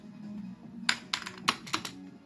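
Several sharp, close clacks of keys pressed on an Amiga 500 keyboard, irregularly spaced over a low electronic hum.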